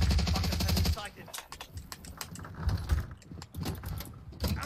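Gunfire in the video game Warzone during a firefight around a church, with loud sharp bursts of shots over the first second, then scattered cracks under ongoing talk.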